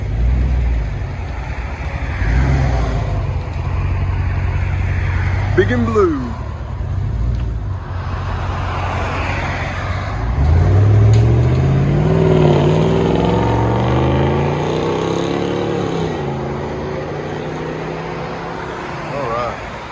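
A 2022 Ram 3500 Power Wagon with a 6.4-liter Hemi V8 and straight-piped exhaust idles with a deep, steady rumble, then revs up in a rising, throaty sweep. A person speaks briefly over it.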